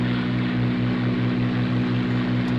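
A propeller fighter's overheating engine drones in a combat flight game, a loud, steady, close hum with a rhythmic throbbing pulse and no talking.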